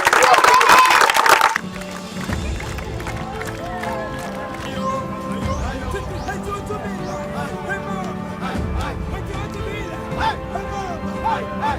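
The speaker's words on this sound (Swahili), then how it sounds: "Hongereni sana ndugu vijana, mmeupiga mwingi sana, hongereni makofi." An audience applauds with a sustained, even patter of clapping after a brief loud burst at the start, with speech heard over and through the applause.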